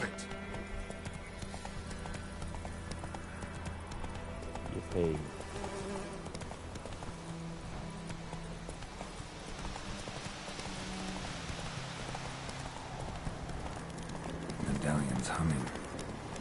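Horse hooves clip-clop at a steady pace in The Witcher 3 video game, a faint rhythmic patter under game ambience and music, with someone talking over it.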